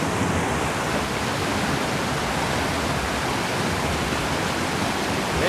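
White water on a river rushes in a steady, dense roar, constant and unbroken throughout with no voices.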